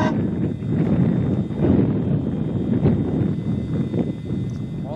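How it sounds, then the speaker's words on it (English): Wind gusting at a graveyard, a steady rough rumble of blustery gusts buffeting the microphone close up, rising and easing without pause. "All of a sudden, the wind just seemed to pick up and come out of nowhere."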